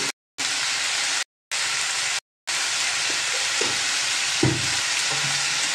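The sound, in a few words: stirring frying food with chillies in a pan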